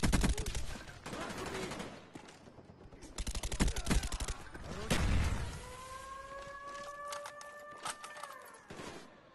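Gunfire rattles through a Battlefield-style multiplayer shooter in dense, rapid automatic bursts and loud bangs with booming impacts, later joined by a sustained rising whine.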